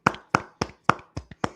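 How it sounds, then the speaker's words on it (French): A slow golf clap of seven crisp, evenly spaced hand claps, close and moderately quiet, with no talk. "Clap de golf, en effet."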